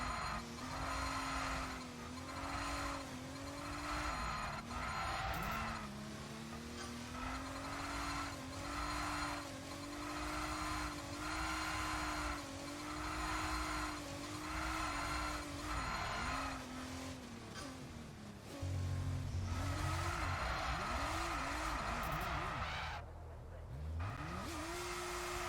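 A McLaren Formula 1 car in the F1 22 racing video game, its engine droning at high pitch with shifting tone as the car slides sideways, tire squeal and skidding noise running continuously throughout, loud and close.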